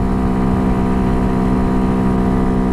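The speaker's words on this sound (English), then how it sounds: "This is all the bike's got today." A Honda Hawk DLX dual-sport motorcycle with an upgraded sprocket and chain running flat out, heard as a loud, steady, droning engine note with a strong hum that holds without change, with no speech.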